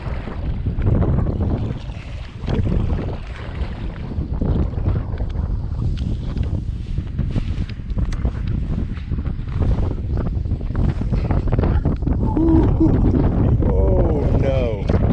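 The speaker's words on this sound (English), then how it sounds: "Oh, the wind just shifted directions." Strong wind buffets a kayak on open water in rain and waves, a loud, steady roar of gusts against the microphone with splashing underneath. A voice is briefly audible through it.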